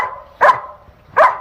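A puppy barks twice, high and short yips about three-quarters of a second apart, close by, with a faint background hum and no talking.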